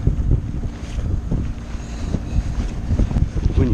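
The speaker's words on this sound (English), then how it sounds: "Should have known better than to get out this wind." Strong wind buffeting a sailboat out on the water, a steady gusty rumble with microphone wind noise and irregular thumps, close and continuous, no clear speech.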